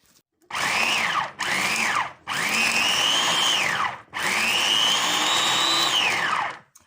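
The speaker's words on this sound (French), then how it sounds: "Et maintenant je mixe." A blender whirs loudly in four bursts, short then longer, blending a celeriac leaf pesto of celery leaves, oil, salt, hazelnuts and garlic, its pitch rising and falling with each pulse.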